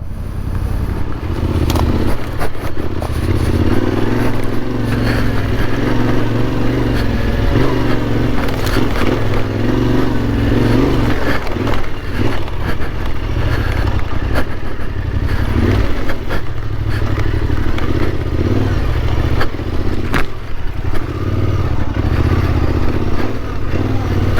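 A Yamaha Tenere 700 rides off-road on slippery ground on tires without off-road tread, its engine droning loudly and steadily throughout with rattling and clattering from the bike over rough terrain.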